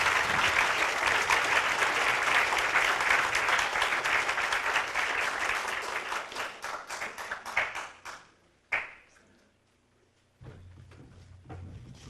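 A large audience at a PKNovate presentation event gives sustained, dense applause for about eight seconds, then the clapping tapers off into near silence before low room noise returns.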